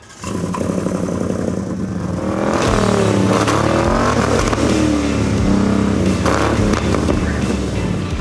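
Engine of a custom Ford build car revving loudly up close, a deep growling idle rising into several throaty blips and surges over a few seconds, with no speech over it.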